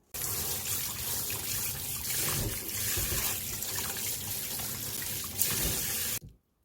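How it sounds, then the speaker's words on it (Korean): Pumpkin leaves are washed under a running kitchen tap, with a steady close rush of water splashing into a sink that stops abruptly at the end. "뒷부분 꺼끌꺼끌한 데를 잘 씻어줘야 합니다."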